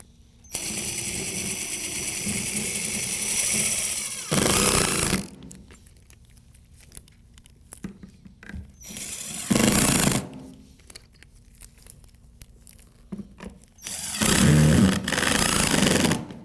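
Power drill driving screws into a replacement toilet flange, several loud whirring bursts of a few seconds each separated by quieter pauses with small handling noises.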